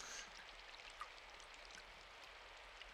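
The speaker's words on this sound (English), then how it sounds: "The sound of rain hitting the gutter." Soft, steady rain patters and trickles onto a gutter in a video game scene, a faint continuous wash of water with occasional tiny drips, no voices.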